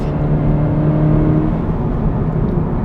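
A Subaru BRZ tS engine roars loudly and steadily at high revs under full throttle on a long straightaway, a sustained close-up drone with no voices.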